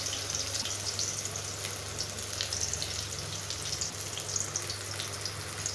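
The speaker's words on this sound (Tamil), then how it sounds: "இதே மாதிரி அந்த பக்கம் வெந்ததுக்கப்புறமா ஆப்போசிட் சைடு போட்டு நல்லா பொரித்து எடுத்துக்கோங்க" Raw banana slices frying in oil in a wide pan, giving a steady, close sizzling hiss that holds at an even level throughout with no voices.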